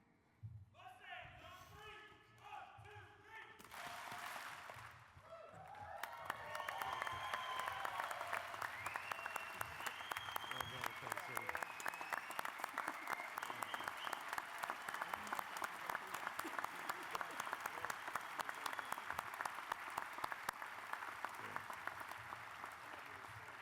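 At a university hall of fame induction ceremony, a voice speaks first, then the audience breaks into sustained, loud clapping with sharp individual claps that fills the hall for many seconds.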